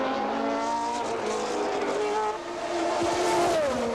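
A 1983 Formula 1 car brakes too late and slides off the track, its high engine note wavering and dropping over tyre skid noise. It is loud and continuous, with a brief dip before the engine rises again.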